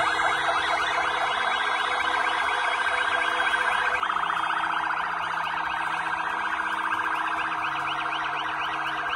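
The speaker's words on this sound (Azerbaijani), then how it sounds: "Sükut dəqiqəsi zamanı dövlət bayraqları endirilib, nəqliyyatın hərəkəti dayanıb, avtomobillərdən səs siqnalları verilib." Many car horns blare together in a steady, unbroken chorus during a commemorative minute of silence for fallen soldiers in Azerbaijan, with traffic halted. The sound is loud and continuous, with overlapping tones that shift slightly midway.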